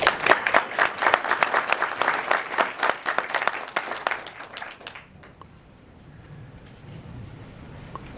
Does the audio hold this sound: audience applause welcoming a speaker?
yes